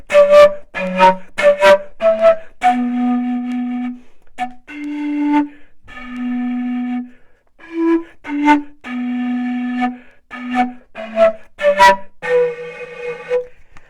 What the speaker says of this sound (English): So this is how the zampoña sounds, and I'll play for you a little bit of the condor pasa